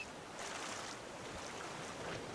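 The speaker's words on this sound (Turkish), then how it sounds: "Dalga var ya karakter zor kürek çekiyor." Ocean waves in the survival game Raft make a steady, broad wash of surf and wind noise. It stays fairly faint and continuous, with no voices heard.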